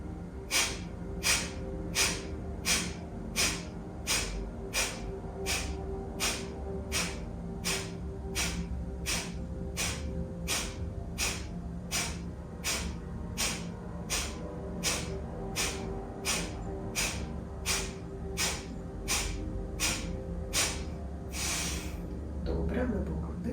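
Rhythmic, forceful pranayama breaths from a yoga exercise in a hatha yoga session, sharp nasal exhalations repeated steadily about once per second for the full stretch over a continuous background hum, ending with a longer exhale.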